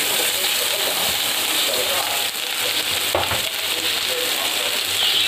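Two onions dropped into hot oil with popped mustard seeds for paneer pulao. A dense, loud, hissing sizzle fills the whole stretch, with a brief stir or two partway through, and a voice is faintly present at times.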